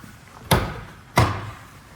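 Two solid car door thumps from a Ford Business Coupe about half a second apart, each a sharp slam that quickly fades, heard close with faint background noise.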